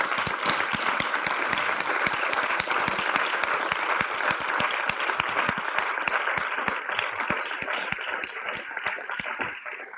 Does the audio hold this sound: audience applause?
yes